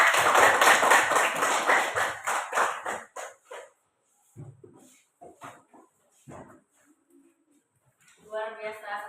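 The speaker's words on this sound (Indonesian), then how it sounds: "Tepuk tangan yang meriah dulu" A classroom of children claps together, a dense burst of applause for the first three seconds that thins into scattered claps and taps, followed by a few quieter sounds and a voice near the end.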